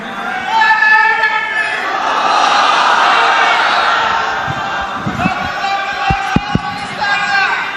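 A large crowd at Lahore's Badshahi Masjid loudly chants Allahu Akbar in unison in reply to a Nara-e-Takbeer call during a speech, a dense swell of massed voices that fades slightly, followed by a few sharp knocks.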